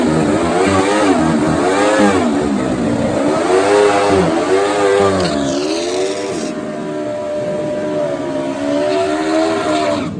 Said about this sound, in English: Big burnout for Knut Moller.